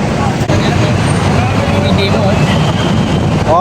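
Loud, steady wind buffeting a microphone outdoors at a street rally, with rumbling roadway traffic underneath, continuous for a few seconds.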